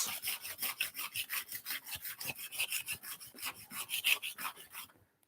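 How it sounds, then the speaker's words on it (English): A file dresses the edge of a steel cabinet scraper in steady, rhythmic rasping strokes, about five per second, close and fairly loud, stopping abruptly near the end. "Dress that edge, get rid of all those chipped areas,"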